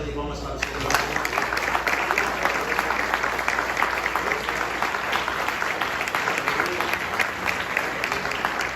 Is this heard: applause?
yes